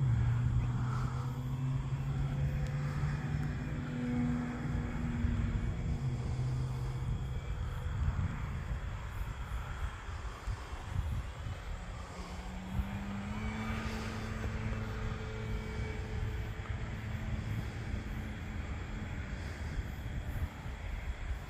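An FMS Pitts RC model airplane of about 1400–1500 mm span flying outdoors, its electric motor whining and shifting in pitch as it passes and turns at moderate distance, steady and fairly faint with a breezy background and no talking.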